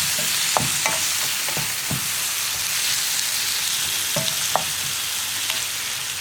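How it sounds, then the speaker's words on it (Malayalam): Tomatoes cooking down for chutney sizzle and crackle steadily in a pan, with scattered scraping stirs of a spoon rising over the loud, continuous frying; no speech. "തക്കാളി ചേർത്തിട്ട് ഒന്ന് ഇളക്കി കൊടുത്തിട്ട് നമുക്കൊരു 5 മിനിറ്റ് അടച്ചു വെച്ച് കുക്ക് ചെയ്തെടുക്കാം"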